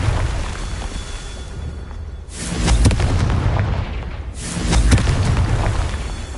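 Two deep explosive booms from the Confringo fire spell in the Hogwarts video game, each a heavy rumbling blast about two seconds apart, loud and close with a rolling low-end decay.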